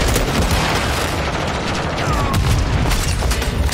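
Loud, dense bursts of Call of Duty gunfire and booms crackle continuously, close and harsh, with no clear talking.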